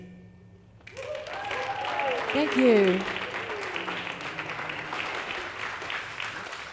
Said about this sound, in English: Give them another round of applause, right?